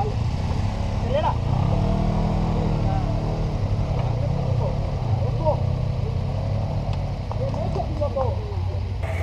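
A Suzuki V-Strom 250 motorcycle engine hums steadily throughout while riding, a continuous close drone with a rider's voice speaking over it and wind noise around.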